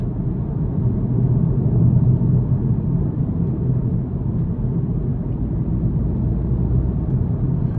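A 2022 Volkswagen Passat SE with its turbo engine in sport mode accelerates, giving a steady low rumbling drone heard from inside the cabin, with no talking.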